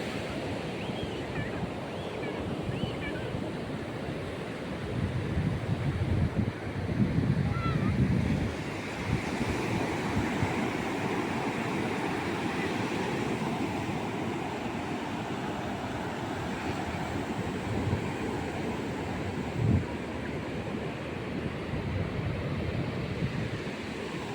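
Ocean waves wash and roll continuously, with wind buffeting the microphone and surges of surf rising and falling.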